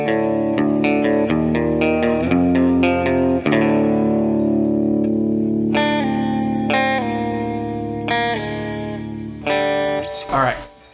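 A Squier Stratocaster played with a clean tone into a Behringer Ultra Metal UM300 pedal, picking a run of ringing single notes and chords, loud and close, with a bright bend and a sharp cut at the end.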